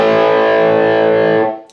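Distorted electric guitar rings out a single sustained A on the sixth string, from a guitar lesson, loud and close before decaying and cutting off.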